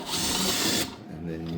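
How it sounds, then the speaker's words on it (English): A power drill bores pocket holes through a clamped workpiece held in a Kreg pocket-hole jig, running as a loud steady whine for under a second before cutting off, with a quieter mechanical hum continuing after. "use the drill to drill out the holes"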